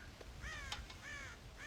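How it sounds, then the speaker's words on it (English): Crows in the Red Dead Redemption video game give several harsh, drawn-out caws, repeating about every half second at moderate distance over a faint background hum, with no talking. "God damn crows!"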